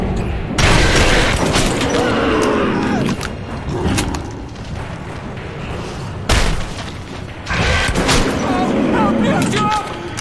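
Shotgun blasts in the video game Metro 2033 Redux, several loud, booming shots with a burst near the start and another around the middle, each followed by a ringing decay.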